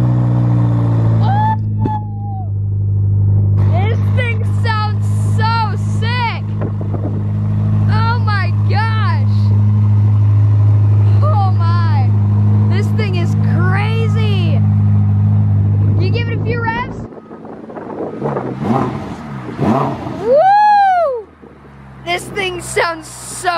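A Ferrari SF90 hybrid supercar engine drones at a steady low idle for a long stretch, then cuts off and is followed by a few sharp revs, with people talking over and around it throughout.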